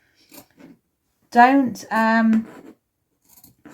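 Scissors snip small triangles into a curved fabric seam, a couple of faint close clicks followed by two louder crisp cuts, then quiet snips at the end, with no talk.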